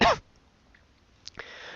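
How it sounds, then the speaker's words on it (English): A single short, loud cough lands right into a microphone, followed by near silence and then a faint breath and light rustle. "Sorry about that, coughing into the microphone"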